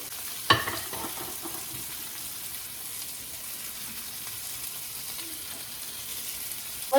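Steak bites sizzle in a pan with a soft, steady hiss, while a sharp clack of turning or tongs lands near the start and another at the very end; the frying stays fairly quiet and even.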